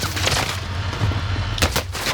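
Gunfire in the video game Call of Duty: Black Ops Cold War: sharp shots and short bursts crack over a low rumble, with a cluster of louder reports near the end.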